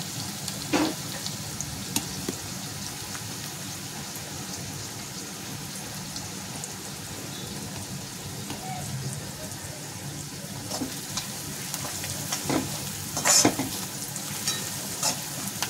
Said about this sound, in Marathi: ही काय भाजी व्यवस्थित तळली ना तेलामध्ये